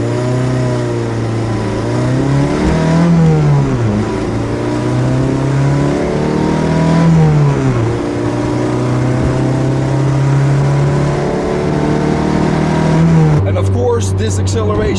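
A 1986 Toyota MR2 accelerates through the gears, engine pitch climbing and dropping at each shift, close and loud, with a voice talking over it.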